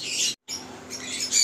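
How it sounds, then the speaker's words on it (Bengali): A Royal Teddy pigeon gives bright, close chirping calls and wing sounds as it is released, with a short break in the middle. "আসুন ছেড়ে দেখাই পায়রাটা। একদম রয়্যাল টেডি।"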